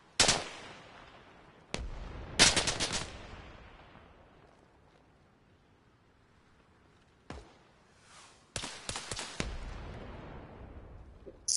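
Bursts of automatic gunfire from a shooter video game ring out in several separated volleys, loud and close, with quieter gaps between them.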